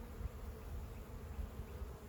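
Honey bees buzz steadily around a hive on a cold day, a dense, close, continuous hum with small swells in loudness and no voices.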